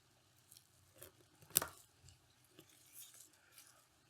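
A blade snips through a woody tree peony scion stem just above a bud during grafting, one sharp close cut amid faint quiet handling noises, with no talking.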